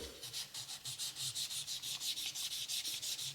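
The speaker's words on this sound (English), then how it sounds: "So now what I'm going to do is rub it this way." An antique Venetian glass bead, about 500 years old and resting on an anvil, is rubbed with an abrasive in quick, steady back-and-forth strokes, making a close, rhythmic scratchy rasp that repeats about six times a second with no talking.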